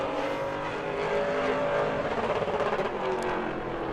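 A pro late model race car laps New Smyrna during qualifying, its loud engine roaring past close by and pulsing as the car goes sideways off the fourth turn.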